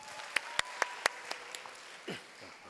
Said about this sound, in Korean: 다시 한번 박수.